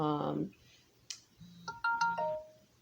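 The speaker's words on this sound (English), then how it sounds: "I need to turn off my sound notifications" Phone notification sounds: a bright electronic chime followed by a run of short tonal beeps and ringing notes at different pitches, clear and close, with no talk over them.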